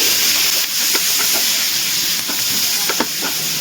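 Chopped onions stirred and fried in a pan for chicken do pyaza, with a steady loud sizzle and hiss and a few scraping stirs, no voices.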